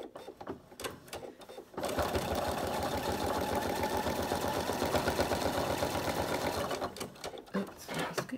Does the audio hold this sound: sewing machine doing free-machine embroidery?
yes